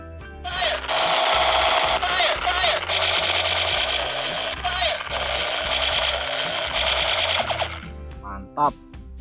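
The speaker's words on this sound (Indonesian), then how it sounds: "Ada tembakan lampu teman-teman Space gun" A buzzing, warbling electronic light-up toy space gun sound plays continuously for several seconds, loud and close, over a repeating synthetic tone pattern, then cuts off.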